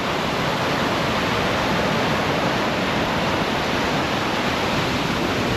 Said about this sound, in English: We got some decent sized waves coming in today